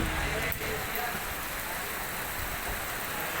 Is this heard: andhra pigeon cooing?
no